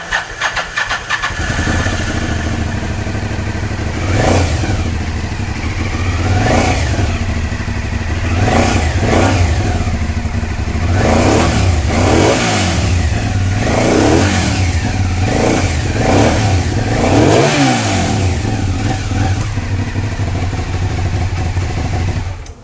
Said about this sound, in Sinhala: මේ එක්සෝස් සිස්ටම් එක නිර්මාණය කරලා තිනවා අපි මේකේ සවුන්ඩ් එක මොනවාගේද කියලා අරගෙන බලමු